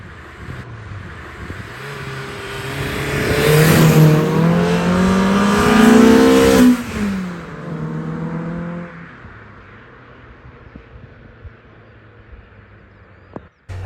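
A modified Mini's engine idles, then revs up hard to a sustained high pitch for several seconds before dropping back to a lower idle, close and loud, with a sharp click near the end.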